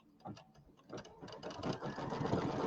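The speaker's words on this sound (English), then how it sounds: "this will be step number 23 in the machine, and it's going to sew those 2 together" A sewing machine stitches two pieced quilt blocks together for a birdhouse square, its needle running in a fast steady mechanical chatter that builds and continues close by, with faint talk in the background.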